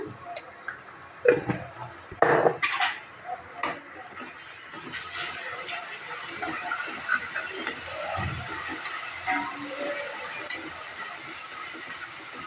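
Ginger garlic paste frying in a pan for chicken curry, a steady sizzle and hiss that builds and holds, with a few stirring clatters early on.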